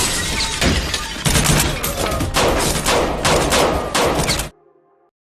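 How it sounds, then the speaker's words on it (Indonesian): Gunfire in a film shootout, a dense and loud barrage of shots with crashing impacts and shattering for about four seconds, ending abruptly into near silence. "Alhasil pertarungan dan adu tembak pun tak terhindarkan."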